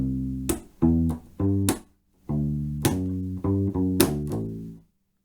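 U-Bass playing an up-tempo slap rock groove with ghosted slap notes, a sequence of short punchy deep plucked notes with percussive attacks and brief gaps, close and clear, played alone without talk.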